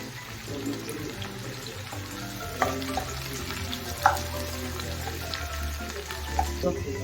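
Curry leaves crackle and sizzle in hot oil with onion in a pan, a steady frying hiss broken by a few sharp pops and faint stirring clatter, close and fairly loud.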